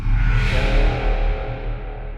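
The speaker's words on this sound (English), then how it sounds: "I boshed the reverb on it and flattened to audio" A dense, washed-out vocal stab for UK dubstep smeared in heavy reverb, sustaining as a loud wall of tone and slowly decaying over a couple of seconds.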